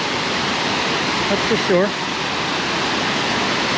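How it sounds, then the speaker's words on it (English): Water rushing over a waterfall fills the scene with a loud, constant broadband roar, close and unbroken, while a person briefly speaks over it midway. "Don't know if you can hear me with the water rushing"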